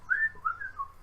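A single voice imitates a fleeing creature with a short, quiet run of rising and falling whistles, three or four brief chirping notes in about a second, close and alone.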